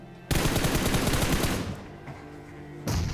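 Rapid automatic gunfire from a PUBG Mobile match: a dense, loud burst of shots for over a second, then a quieter, fading tail, and a fresh burst starting at the very end.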